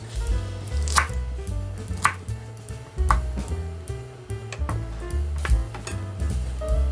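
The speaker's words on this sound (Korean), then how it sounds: "배추가 절여지는 동안 부추를 잘라보겠습니다" A knife chops about 60 g of Korean chives into 3 cm lengths on a cutting board for fresh geotjeori kimchi: close, steady thuds roughly once a second, with no talking.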